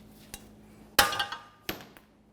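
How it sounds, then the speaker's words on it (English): A hammer strikes a lower ball joint of a 1994-1997 Honda Accord held in a vise, giving a light tap followed by a sharp metallic bonk with ringing decay and a second clanging hit. "continue on with a hammer, give it a couple loving bonks."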